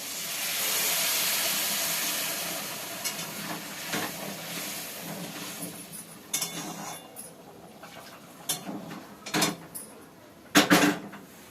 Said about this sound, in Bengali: জল গরম হয়ে গেছে, তো আমি দেবো এর মধ্যে ঢেলে।